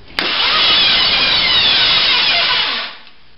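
Rewired riding lawn mower engine cranks over with the starter, a loud harsh whirring grind lasting nearly three seconds before cutting out, close to the listener and without voices.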